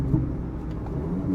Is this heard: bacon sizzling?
no